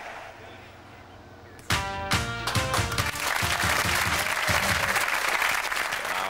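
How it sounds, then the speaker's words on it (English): A stadium crowd in Gothenburg gives Denmark an ovation after they win the European Championship. A sharp burst of clapping and cheering swells into sustained, loud, dense applause. "Denmark receive a fabulous and well-deserved ovation"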